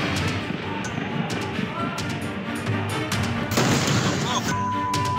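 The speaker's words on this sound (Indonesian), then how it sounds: "Suara ledakan keras bertubi-tubi terjadi di gudang amunisi milik Kodam Jaya TNI Angkatan Darat" Loud explosions rip repeatedly through an army ammunition depot in Ciangsana, Bogor, producing a dense run of booms and crashes with voices mixed in throughout.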